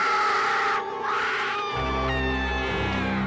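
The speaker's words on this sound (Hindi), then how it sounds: "नीचे खींचते ही वो चुड़ैल जोर से चीखी।" A witch's loud, shrill scream rings out as a horror story sound effect, wailing steadily and then layered with a deeper droning tone.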